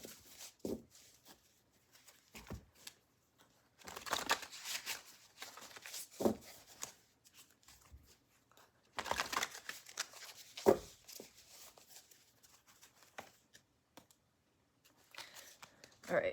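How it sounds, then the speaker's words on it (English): Stiff tarot cards are shuffled in several short, crisp bursts of riffling and flicking, separated by pauses, close and fairly quiet. "These ones are really hard to shuffle."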